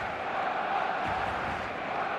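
Steady stadium crowd roar from eFootball 2026, a continuous broad wash of many voices with a faint rise, distant and unbroken for the whole stretch.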